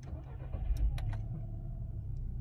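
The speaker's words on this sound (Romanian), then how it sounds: "Motorul este oprit, da? Acum o băgăm contactul." A Volkswagen Golf 5 has its ignition switched on and the engine cranks and starts, a short burst of mechanical clatter and a few sharp clicks. It then settles into a low, steady idle rumble close by, with no talk.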